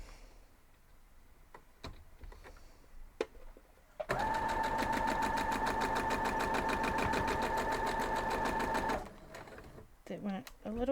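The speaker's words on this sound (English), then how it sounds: "So we're going to head over to the sewing machine." A home sewing machine runs steadily for about five seconds stitching a quilt block, a fast even mechanical rattle, close and loud, with quiet handling noises before and after.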